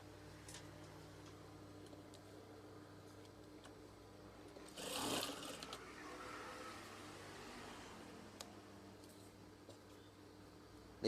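Sewing machine stitching a folded hem on curtain fabric, a soft steady mechanical whir with a louder burst of running near the middle, quiet and close with faint ticks around it.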